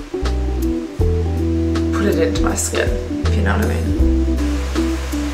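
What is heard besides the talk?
heavy rain pouring outside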